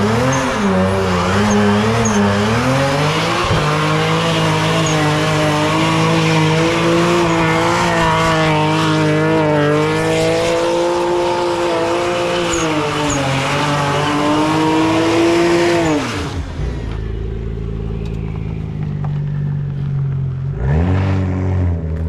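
A BMW 335i fitted with an Eisenmann exhaust roars loudly and continuously, its pitch rising and falling through sustained high revs with a brief squeal, then dropping off to a quieter idle and one short final blip.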